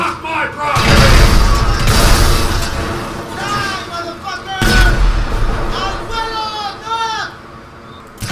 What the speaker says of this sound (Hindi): मारो गोलियाँ मारो कहाँ से मारोगे तो मारो गोलियाँ